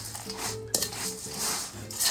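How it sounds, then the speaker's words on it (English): Melted butterscotch morsels stirred in a hot bowl, with a spoon scraping and clinking against the sides in short repeated strokes, close and fairly loud, alongside a faint hum in the background. "Just gonna mix that all together."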